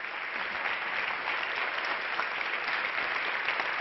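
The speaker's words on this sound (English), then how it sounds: "please, a big applause for Dr. Rama Mani for such a powerful and beautiful performance" Sustained audience applause fills a hall at the United Nations after a stage performance, a dense, steady wash of many hands clapping at even loudness throughout, with no voices above it.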